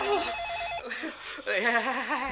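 A cordless telephone rings indoors with a warbling electronic tone, two bursts of trilling ring separated by a short pause, fairly close and moderately loud, with some voice underneath.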